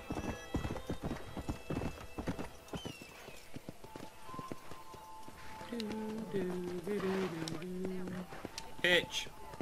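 Rapid hoofbeats clatter in a galloping rhythm, then a horse whinnies, with a voice speaking over the game-like audio from Red Dead Redemption.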